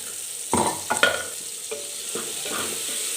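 Black masala and vegetables sautéing in oil in a clay pot, with a few distinct spatula scrapes and stirring bursts over a faint background sizzle, close and intermittent.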